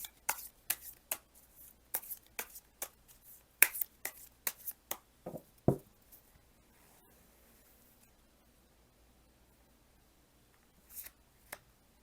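Tarot cards being shuffled and drawn, a run of crisp snapping riffles and flicks close up over several seconds, then quiet with a couple of soft card sounds later.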